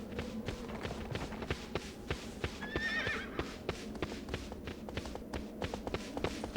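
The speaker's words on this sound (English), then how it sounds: "Has my magical horse returned? Yay, it has." A horse in the video game Shadow of the Colossus trots with rhythmic, steady hoof clops and gives one clear whinny midway, with no voices.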